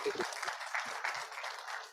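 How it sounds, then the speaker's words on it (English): An audience applauds at an Indonesian event as a minister is announced. The clapping is moderate and continuous for about two seconds, with a few low thumps mixed in. "Let's give a big round of applause as well."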